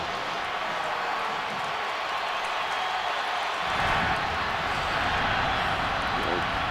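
A football stadium crowd at the Auburn at Alabama Iron Bowl rumbles with a broad, steady roar that swells louder about halfway through, under continuous play-by-play commentary.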